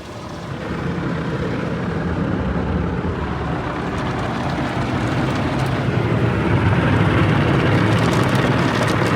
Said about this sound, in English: we're starting off with the lava soap